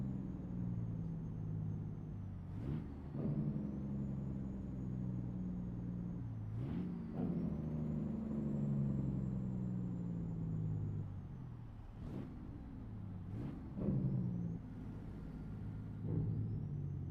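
A car engine in a racing game played with a force-feedback wheel holds a steady, loud drone broken by about five gear shifts, each a sudden RPM drop followed by a climb back up, with no talking.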